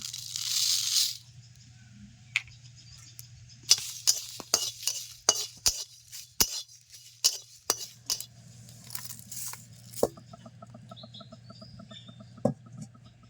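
Dried red chillies, coriander seeds, cumin and torn bay leaves are dry-roasted in a hot pan for a fish and pumpkin curry, with a series of sharp, close stirring scrapes and rattles in a quiet kitchen.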